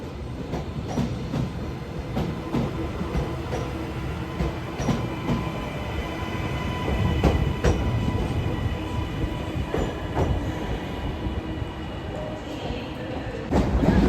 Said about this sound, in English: Arriving in now is LNER Zoom service 800-109 off to Inverness from London King's Cross.